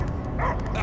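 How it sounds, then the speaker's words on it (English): Dog barking in the video game Guardians of the Galaxy, short yips and bow-wows from a dog heard amid game sound and voices, loud and close. "I hear only barking."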